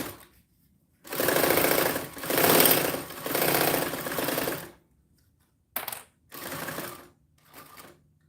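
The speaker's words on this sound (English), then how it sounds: "I am sewing on a Yamata 1341 cylinder arm walking foot" Yamata 1341 cylinder arm walking foot sewing machine running in several loud, rapid mechanical bursts, first a long steady stretch of stitching, then shorter runs with abrupt stops and a sharp clack between.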